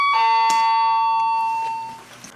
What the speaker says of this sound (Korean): 잠시 초인종이 눌려서